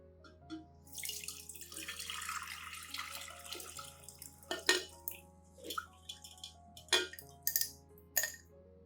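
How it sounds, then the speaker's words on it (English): Potato peel water, with its dissolved peels, is strained into a container, pouring and trickling steadily with a few sharp clinks and taps of kitchenware near the end; no one talks. "I will strain out the peels and keep only the extracted liquid"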